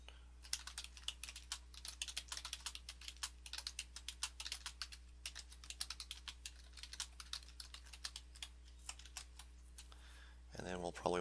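Rapid clicking keystrokes on a computer keyboard come in quick irregular bursts, close and quiet over a low electrical hum, with a voice talking near the end.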